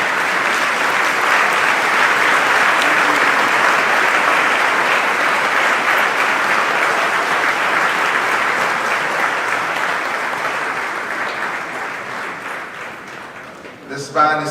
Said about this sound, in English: We need to stand and give him a huge round of applause.